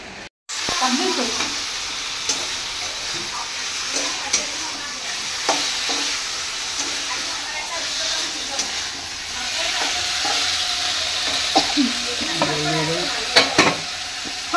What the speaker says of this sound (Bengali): একটু কষিয়ে নি